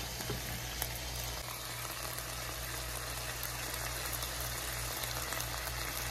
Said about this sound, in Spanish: Y es aquí donde le voy a poner un poquito de aceite.